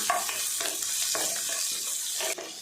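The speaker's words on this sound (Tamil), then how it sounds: "வெங்காயம் சேர்த்துட்டு நல்லா வதக்கி விட்டுடலாம்." Small onions sizzling in a hot pan for an egg and dried fish curry, with a few scraping stirs of a utensil punctuating the steady frying hiss.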